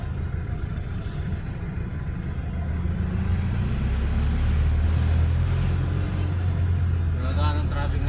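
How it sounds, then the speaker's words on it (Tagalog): A car moving slowly in traffic, with a steady low engine rumble and road noise inside the cabin throughout. "Talaga ng traffic ngayon kuya"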